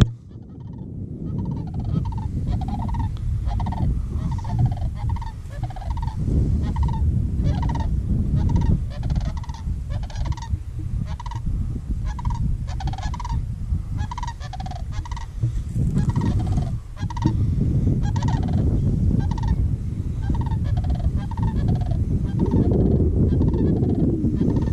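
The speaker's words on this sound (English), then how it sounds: "There goes the cranes." Flock of cranes calling as they fly over a farm field planted with cover crop, a dense chorus of loud, rolling bugling calls repeated continuously for about 25 seconds over a low outdoor rumble, with no talk.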